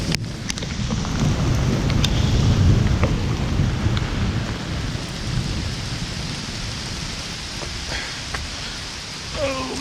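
Steady rain falls with rumbling thunder rolling low and heavy, easing gradually toward the end.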